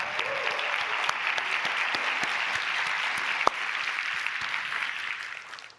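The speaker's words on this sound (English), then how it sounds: "Please give them a round of applause." Audience applause at a conference opening plenary: a steady, dense wash of clapping from a large crowd that carries evenly through, with a single sharp louder clap near the middle, then thins and fades at the end.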